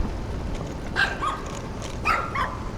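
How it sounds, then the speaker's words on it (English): A dog barks twice, loud and sharp, about a second apart over a low steady background hum. "Noisiest fucking dog in the world."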